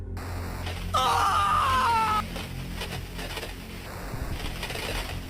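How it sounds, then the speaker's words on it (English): A high, wavering scream bursts out loudly for about a second and stops abruptly, followed by faint wind and low rumbling in a remote Alaskan wilderness setting. "Then, a final sound, a scream, abruptly cut off."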